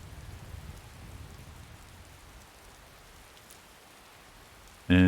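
Rain in the video game Skyrim falls as a soft, even hiss of drops with faint low rumbling early on, staying quiet until a loud, abrupt burst of sound cuts in at the very end.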